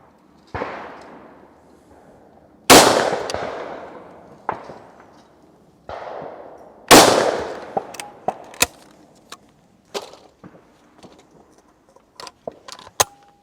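A Browning Medalist shotgun made in Italy fires at clays outdoors: several loud, sharp blasts with decaying echoes, some single and some in quick pairs, with fainter clicks and clatter between them.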